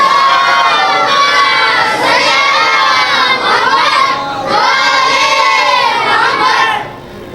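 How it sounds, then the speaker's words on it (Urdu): A crowd of children at a Shia Quran school loudly recites salawat together, a dense, energetic chorus of young voices rising and falling in unison waves, close and continuous for several seconds. "صلوات پڑھ دیں بلند آواز سے"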